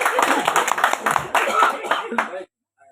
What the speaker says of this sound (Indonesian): Tepuk tangan, Satu, dua, tiga.